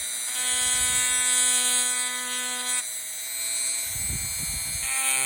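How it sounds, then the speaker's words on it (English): Dremel rotary tool whirring steadily as it stipples the polymer frame of an SDI FTH 212 striker-fired pistol, a close, continuous high-pitched whine that shifts in speed partway through, with no talking. "This Dremel tool's got a mind of its own. It keeps speeding up."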